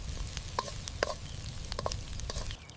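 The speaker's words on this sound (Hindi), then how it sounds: "अब बारीक कटी हुई सब्जियां डालते हैं और हल्का सा भून लेते हैं" Finely chopped vegetables fry in a tiny miniature pan in an outdoor Indian village toy kitchen, giving a steady soft sizzle with small crackles and stirring clicks close by.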